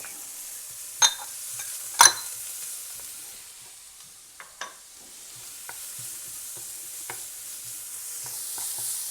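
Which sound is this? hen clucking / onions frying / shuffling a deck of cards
onions frying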